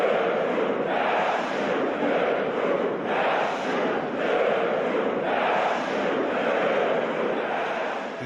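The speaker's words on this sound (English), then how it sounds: "get them to chant the black speech" A big sports crowd chants Black Speech as the Uruk-hai army for The Two Towers, a loud, rhythmic roar that swells and falls in regular pulses.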